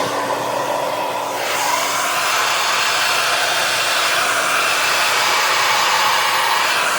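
Hair dryer blowing steadily and loudly at close range while drying a pet raven's feathers, with the heat turned down, a continuous even whoosh with no voices.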